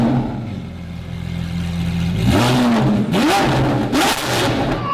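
A Pagani Zonda or Ferrari 458 supercar exhaust blips and revs, starting as a steady low idle and then rising into several sharp, loud climbs and drops close by, with no one talking.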